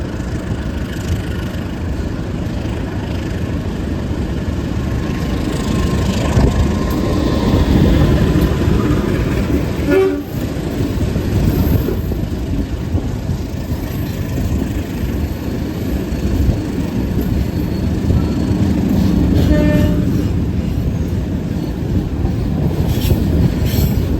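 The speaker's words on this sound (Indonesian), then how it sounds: "Kereta api Kahuripan tiba di stasiun Wali Kukun" The Kahuripan passenger train runs into a station at night, a loud, continuous rumble of rolling wagons with rhythmic wheel clicks and occasional metallic squeals, heard from close by over about twenty seconds.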